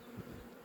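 Honey bees fly around the entrance of an apiary hive, a faint continuous buzzing drone.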